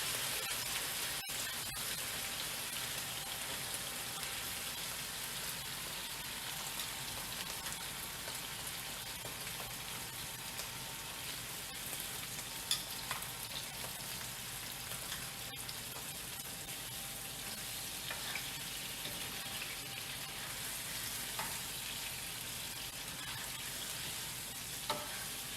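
Apples frying in a hot pan with pork marinade, a steady, even sizzle that stays constant for the whole stretch, with a few faint clicks and stirring sounds.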